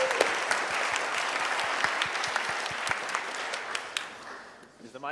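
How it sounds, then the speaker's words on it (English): An audience claps for the first contestant at a startup pitch final. The applause is dense and sustained, with sharp individual claps standing out, and fades away near the end. "please give a big round of applause to the first contestant"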